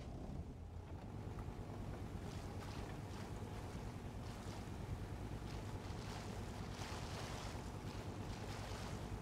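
A boat engine runs in Rust, a steady low rumble mixed with wind buffeting and ocean waves, continuous and fairly loud, with no talk.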